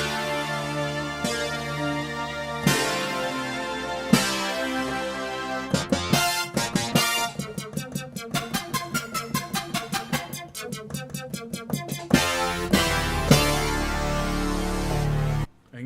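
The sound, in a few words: guitar playing song section with changing effect sounds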